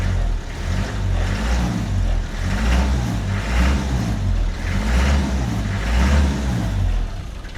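A rough Land Rover 90 engine idles and revs repeatedly in steady swells, loud and close, with a throaty rumble throughout.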